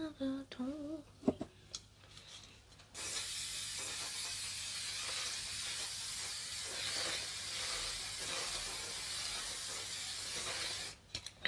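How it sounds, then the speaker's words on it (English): Hairspray sprays from an aerosol can in one long, steady hiss lasting about eight seconds, close and loud, with brief handling noises before it starts. "Spray."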